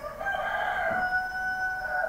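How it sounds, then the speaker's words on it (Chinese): A rooster crows once in a single, sustained, tonal call, fairly close and clear over quiet surroundings, late in the morning. "这个时候还打鸣啊"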